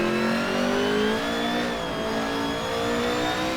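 A 1984 Ford Capri race car engine revs loudly and steadily at high pitch at Bathurst in Assetto Corsa, the tone sliding up and down through gear changes, with no talking.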